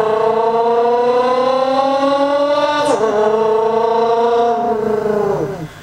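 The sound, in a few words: beatbox imitation of a car engine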